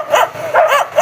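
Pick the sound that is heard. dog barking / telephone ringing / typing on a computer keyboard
dog barking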